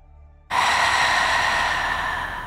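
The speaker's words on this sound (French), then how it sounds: "le volume de votre respiration devrait être assez haut que si je vous approchais, je peux vous attendre respirer." A loud, deep breath in yoga practice: after a brief quiet moment comes a strong, close, airy exhalation that holds steady and slowly fades over about two seconds.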